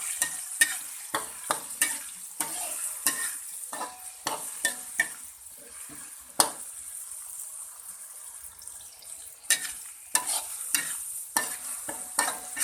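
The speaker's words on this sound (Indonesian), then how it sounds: "kita goreng bumbu halusnya inji" Ground spice paste sizzles in hot cooking oil in a wok, with a steady frying hiss broken by repeated scraping stirs, close and without talk.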